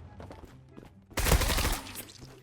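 A loud burst of gunfire erupts midway through a round of the shooter game Zula, following quieter in-game ambience and faint clicks, then fading into a lingering rumble.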